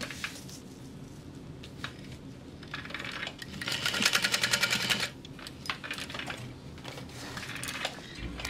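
A sewing machine top-stitches a bag in a quiet room, running a short fast burst of rapid needle clatter in the middle, with softer intermittent whirring and handling clicks around it.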